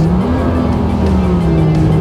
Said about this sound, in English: Now let's see how this boat takes off.